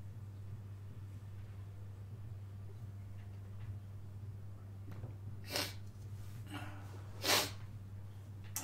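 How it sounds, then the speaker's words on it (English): A couple of short nasal sniffs stand out over a quiet steady hum, with long gaps of near-silence between them. "Sorry about the sniffles"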